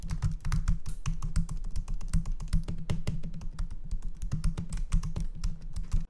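Rapid, crisp typing on a butterfly keyboard of an Intel MacBook laptop, with dense, even clicks close up that continue without pause and no talking.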